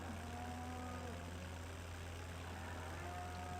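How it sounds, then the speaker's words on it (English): Tractor engine in the Farming Simulator game, held at maximum RPM while the PTO drives silage unloading, making a steady, loud, continuous drone with a low hum that runs unbroken and alone. "Revving the engine at max RPM."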